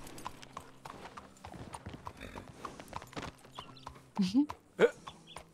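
Horse hooves clip-clop in a steady rhythm in a western video game, with game sounds and a couple of louder bumps near the end; people talk lightly in the background.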